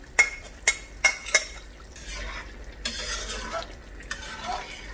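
Chicken Afghani gravy being stirred in a pot, several sharp spoon clinks against the metal rim early on, followed by softer scraping and mixing sounds, close by with no voices.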